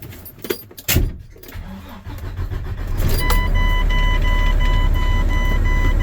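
A Mack truck with dead batteries cranks on a jump box and catches, settling into a loud, steady diesel idle with a whining tone after a few seconds of clattering and handling noise.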